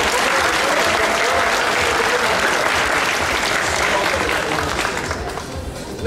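An audience at an anime convention costume contest breaks into loud, sustained applause and cheering that carries on for several seconds, then fades slightly toward the end.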